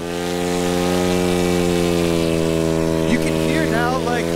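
A small paramotor engine, a budget overseas-bought unit, drones steadily at reduced cruising throttle, a loud, close, buzzing hum with stable pitch, joined near the end by brief whistling or chirping sounds.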